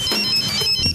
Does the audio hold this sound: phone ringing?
yes